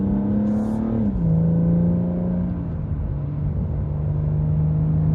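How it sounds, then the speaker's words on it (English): BMW M140i six-cylinder engine in sport mode, a loud steady drone that drops slightly in pitch and then holds, a continuous close rumble with no talk over it; no distinct exhaust pops stand out. "in sport mode, there obviously the engine comes alive, the exhaust starts popping and banging"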